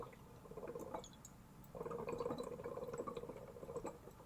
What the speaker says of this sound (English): as I blow air in, alright, air is forcing the water out from the sides